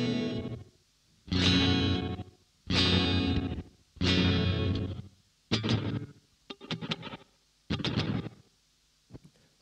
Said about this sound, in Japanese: リバーブゲートですね